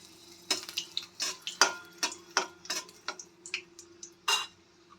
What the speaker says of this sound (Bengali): এবার আমি ফোড়নে 2টো শুকনো লঙ্কা দিয়ে দেব।